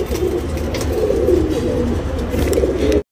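Racing pigeons in a loft give a steady, close, low cooing that runs continuously for a few seconds with no talking.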